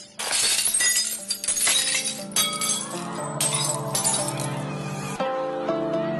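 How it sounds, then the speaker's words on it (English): A glass shatters loudly close by, a burst of breaking and tinkling fragments with ringing shards that trail off over several seconds. "all the energy in the sound of the singer's voice is transferred to the glass"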